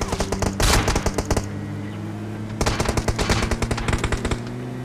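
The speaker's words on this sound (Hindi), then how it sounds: "अब देखो यार वो बंदा मेरे पे फायर करता है" Automatic gunfire in PUBG Mobile, rapid bursts of shots in tight rhythmic strings, one sustained burst early, a pause, then another long volley, loud and close with a low engine-like hum underneath.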